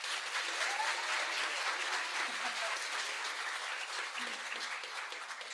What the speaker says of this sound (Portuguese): eu queria uma salva de palmas para, no violão, Gabriel Santos.